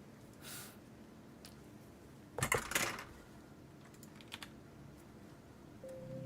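Gunpla model parts are cut off the plastic runner with quick, crisp snips. A cluster of sharp clicks lands near the middle, followed by a few fainter ticks against quiet room tone.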